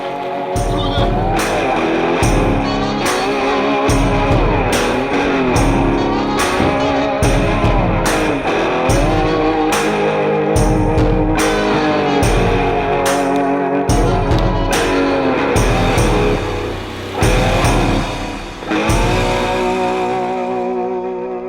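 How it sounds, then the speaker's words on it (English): A 1971 Ford F100 truck engine revs hard and unevenly after the clutch is popped, with rough repeated bursts and surges that are loud and close, broken by brief drops in power. "got him back on the road, popped the clutch"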